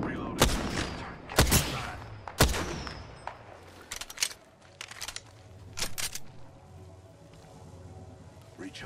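Gunfire from the Apex Legends video game: several sharp broadband shots ring out in the first few seconds, followed by scattered later bursts over a low rumbling game background, with brief voice callouts.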